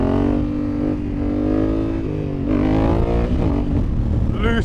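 A Honda Africa Twin motorcycle engine revs hard while the bike is held in a wheelie, a loud, close, rising and falling roar with a steady harmonic drone and a sharp throttle blip near the end.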